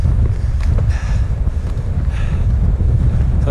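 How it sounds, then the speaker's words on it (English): Strong wind buffets the microphone on an exposed mountain ridge among the highest peaks in Wales, a loud, continuous low roar with gusting swells. "So the wind isn't too bad on here, fortunately."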